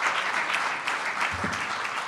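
Audience applause at an evening talk in Paris, a dense steady patter of many hands clapping throughout, fairly close and full, with a faint voice briefly under it near the end.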